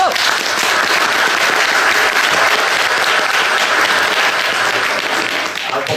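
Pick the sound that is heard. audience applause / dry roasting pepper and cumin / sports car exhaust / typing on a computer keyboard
audience applause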